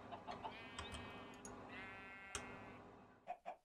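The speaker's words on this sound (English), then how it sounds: "I just found my chickens." Minecraft chickens cluck in short, faint bursts amid a quiet game scene, with a few sharper clucks near the end, no talking.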